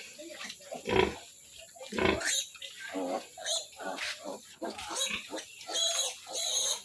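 A mother pig, twelve days after farrowing, grunts repeatedly at close range. Low snorting grunts come in an irregular series over the whole stretch.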